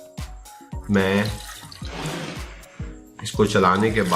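Water sloshes and swirls as it is stirred in a jar of beet kvass with lemon, black seeds and fenugreek, a brief noisy churning between stretches of someone talking close by.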